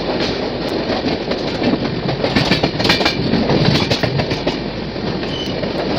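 Nagaon Express hauled by a WAP 7 electric locomotive rolls past, a loud, steady rumble with rhythmic clickety-clack of wheels over rail joints and faint squeals, close by and continuous without voices.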